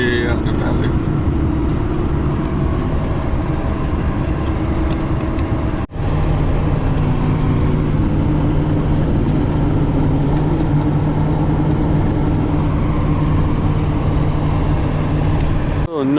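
Steady low engine rumble and road noise from inside a moving car on a valley road near Palmdale, California, continuous and loud, with a brief dropout partway through.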